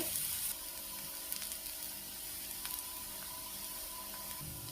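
Bitter gourd slices sizzle steadily as they fry on both sides in a pan, a continuous close crackling hiss with a brief louder burst at the start.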